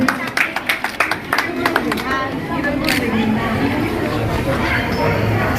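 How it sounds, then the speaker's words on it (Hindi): Applause and clapping from an audience welcoming a guest at a birthday-event medical camp in Kiradpura, Aurangabad; sharp claps open the clip, then merge into a steady wash of crowd noise and chatter. "जबरदस्त तालियों से स्वागत कीजिए।"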